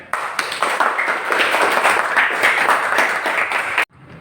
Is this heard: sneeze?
no